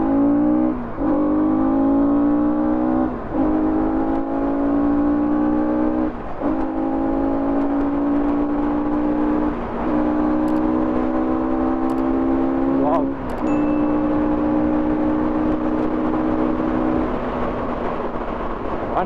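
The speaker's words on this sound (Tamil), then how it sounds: "அசால்ட்டாக 100 பிச்சிட்டு போச்சு வண்டி" A very small city car accelerating hard up to about 100, its engine note rising in repeated pitch sweeps with short dips at each gear change, loud and close throughout the run.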